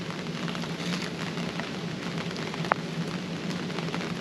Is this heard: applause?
no